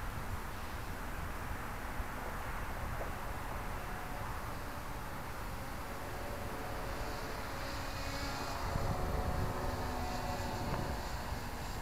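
A model flying wing airplane drones steadily in flight overhead, a continuous motor whine that holds evenly and grows slightly louder near the end, with no talking.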